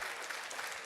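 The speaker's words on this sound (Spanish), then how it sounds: "Dele un aplauso al Señor" A church congregation breaks into brief, dense applause, a steady wash of many hands clapping at moderate distance with no voices over it.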